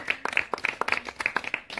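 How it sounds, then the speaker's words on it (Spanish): Scattered hand claps for a cook at a casual lunch, a dozen or so irregular, fairly close claps with short gaps between them and no talking over them. "Ahí hay un aplauso para el cocinero"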